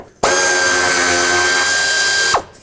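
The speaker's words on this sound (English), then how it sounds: "you can remove this 8mm bolt that holds on the fan shroud" An impact or power drill runs steadily at a high whine for about two seconds while an 8mm bolt holding the fan shroud is removed from a 1997–2003 Ford F-150, starting and stopping abruptly, close and loud with no talk.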